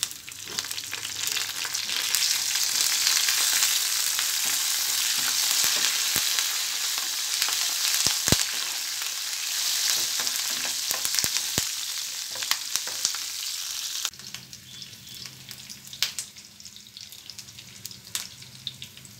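Tempering of cumin, garlic, dried red chillies and curry leaves frying for an onion-sesame stone-ground chutney. It crackles and sizzles loudly with scattered sharp pops, then drops to a softer sizzle over a low hum for the last few seconds.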